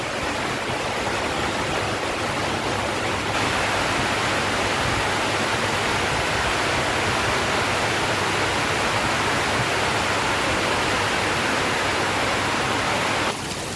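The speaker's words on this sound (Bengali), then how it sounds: "দারুণ বৃষ্টি হচ্ছে" Heavy rain pours down in a dense, unbroken roar of broadband hiss that stays loud and steady throughout, with no voices.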